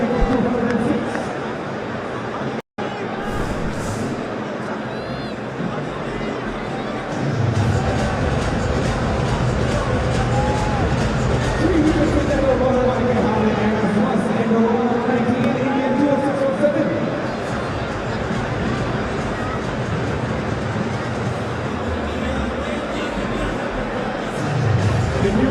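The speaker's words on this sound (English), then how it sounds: "there's a massive crowd here in Delhi" A massive crowd of cricket fans fills a stadium in Delhi during a T20 World Cup match between India and Namibia, a steady dense roar and babble swelling throughout, with commentary voices running over it.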